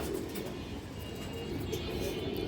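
A pigeon at a sale pen gives soft, continuous low cooing, fairly close, over a steady background hum.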